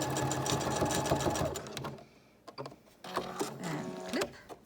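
Sewing machine back stitching the seam of a cuddle blanket: a steady mechanical whir of needle strokes, a brief pause, then short bursts of stitching in reverse and forward.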